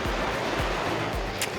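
Surf rolling onto the sandy beach at Chelem on Mexico's Emerald Coast near Mérida, a steady close wash of breaking waves with some wind rumble and no voices.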